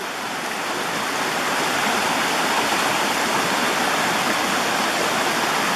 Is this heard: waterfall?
yes